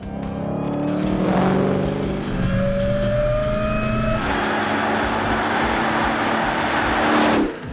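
A 2017 Dodge Challenger Hellcat engine roars as the car drives, loud and close, with the pitch climbing through the revs, a gear change midway, then a long sustained pull that drops away abruptly near the end.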